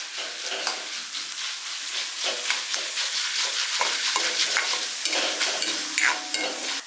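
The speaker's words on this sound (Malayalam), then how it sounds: "ഉഴുന്ന് നമുക്ക് നന്നായിട്ട് ഇളക്കി തന്നെ ഒന്ന് വറുത്തെടുക്കാവേ" Black gram stirred and fried in oil in a pan makes a continuous close sizzle, broken by repeated scraping strokes of the spoon, with no talk.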